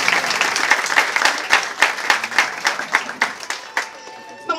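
A crowd at a school kitchen-dining hall inauguration gives sustained applause, dense clapping that thins into scattered separate claps near the end.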